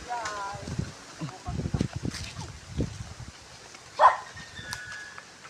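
A dog barks once, close and sharp, on an outdoor walk, following stretches of talking voices with rustling and faint birds in the background.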